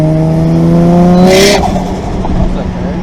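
A Toyota JZX100 engine with a slipping clutch revs loudly and close, its pitch climbing and then settling into a strained drone, with a burst of rushing noise midway.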